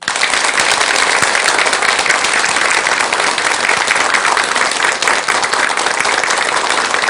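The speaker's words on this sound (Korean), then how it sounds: "전국의 훌륭하신 대덕 큰 스님들께 큰 박수 한번 주시기 바랍니다" Large audience of Buddhist devotees applauding for senior monks at a dharma lecture, a dense, steady roar of many hands clapping at once, loud and sustained throughout with no voices over it.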